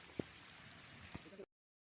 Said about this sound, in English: That was the downpour we were experiencing while fishing.